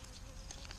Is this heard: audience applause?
no